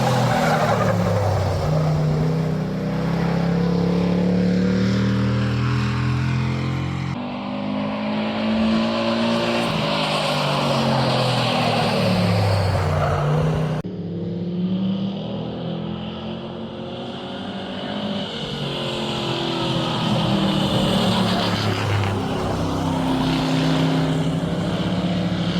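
Hobby trucks race around Kings Park Speedway, their engines roaring loud and close, revs rising and falling as they pass in waves over a long stretch with no talk.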